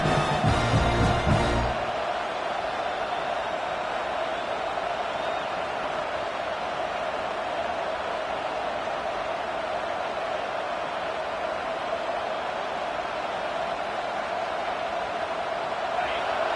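Stadium crowd noise in the NCAA 26 college football video game, a steady continuous roar of cheering fans that stays even and moderately loud throughout, after a brief burst of other game sound at the start.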